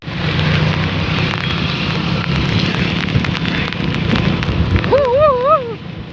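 Steady rain patters on a surface close by, a dense continuous hiss, with a brief wavering siren-like tone near the end.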